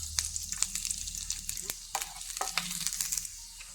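Chopped garlic, four or five cloves, frying in butter in a hot pan, a steady bright sizzle with crackling pops and occasional stirring scrapes, close and alone.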